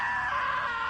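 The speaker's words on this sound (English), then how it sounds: "Now that was a great scream." A long, sustained scream in the video game What Remains of Edith Finch, loud and continuous, filling the moment with a strained, piercing cry.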